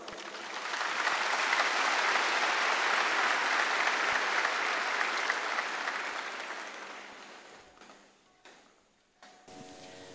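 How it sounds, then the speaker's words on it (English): An audience at a live Carnatic flute concert breaks into warm applause welcoming the flutist, swelling quickly, holding steady, then thinning out and fading into scattered claps and quiet near the end. "Let us all welcome him with a huge round of applause."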